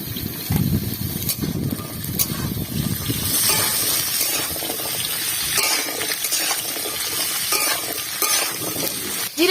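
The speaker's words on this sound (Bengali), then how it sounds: "আলু পটল হালকা করে ভেজেছিলাম, এখন ডাটা দিয়ে একসাথে ভালো করে ভেজে নেব।" Potato, pointed gourd and drumstick stalks fry together in a pan with a continuous loud sizzle, mixed with splashy stirring and watery crackle throughout.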